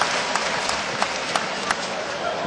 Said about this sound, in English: There's the Argentine team up there in the stand, applauding.